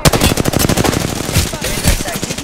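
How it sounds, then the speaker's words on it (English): Rapid bursts of automatic gunfire in the battle-royale game Apex Legends, loud and close, with irregular volleys running through the whole stretch and no talk over them. "Shots."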